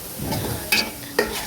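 Sliced onions and green chillies fry for chicken biryani, with a steady sizzle broken by two sharp spatula stirs against the pan.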